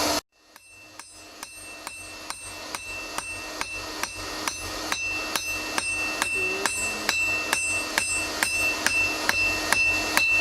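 Repeated metallic hammer blows ring out at a steady pace while forging metal in the field, each strike sharp and bright with a lingering clang, close and loud over a low hum.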